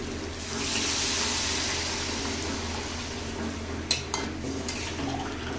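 Water poured into a pumpkin and prawn curry, a steady gushing pour that fades into quieter bubbling with a few clinks of a pan or utensil, no one talking.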